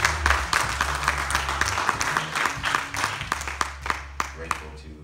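Church congregation clapping in rhythm over music with a strong bass line, sharp claps repeating steadily through the passage, with some voices mixed in.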